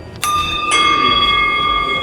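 A bell rung twice in quick succession at a ghat in Varanasi, each strike bright and clear, with the tones ringing on and slowly fading.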